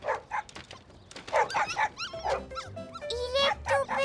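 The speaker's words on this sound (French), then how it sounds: "C'est un des chiots qu'on entend." A small dog gives high, thin whimpers and yips in short rising bursts, mixed with soft barks, fairly close and continuous.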